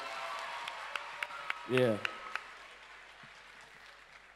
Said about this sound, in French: Est-ce qu'on peut applaudir pour Mariuska, s'il vous plaît?